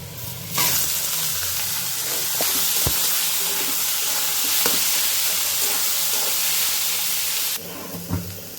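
Leafy greens sizzle and hiss in a hot pan with browned chopped garlic and onion, a steady loud frying sound with occasional stirring clicks from a utensil, no talking.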